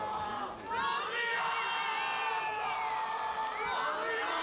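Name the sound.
crowd cheering and shouting encouragement at a behourd tournament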